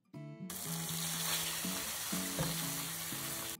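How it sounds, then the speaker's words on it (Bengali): Fish heads fry in hot oil in a wok, a steady close sizzle with stirring scrapes and a clack near the midpoint, no talk. "মাছের মাথাগুলো দিয়ে নাড়াচাড়া করে ভেজে উঠিয়ে নিলাম"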